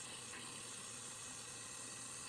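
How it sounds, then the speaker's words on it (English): Water rushes steadily from a newly installed bathroom faucet just after the supply is turned back on, a constant close hiss with no breaks or voices. "we'll slowly turn the water back on."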